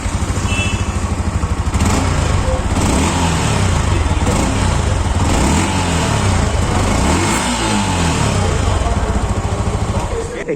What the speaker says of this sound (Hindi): अभी आपको एक बार इसकी एग्जॉस्ट की साउंड भी सुना देता हूँ